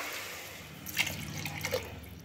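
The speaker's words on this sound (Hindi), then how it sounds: "अब हम इसमें डालेंगे पानी" Water pours into rice in a kadhai while egg dum biryani is cooking. Soft, fairly close trickling and splashing runs for about two seconds with no talk over it.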